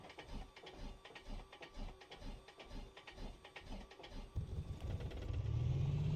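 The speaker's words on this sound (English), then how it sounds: "Good engine start." A simulated light aircraft piston engine in Microsoft Flight Simulator 2020, the starter cranking in an even rhythmic chug for several seconds before the engine catches and settles into a louder steady roar.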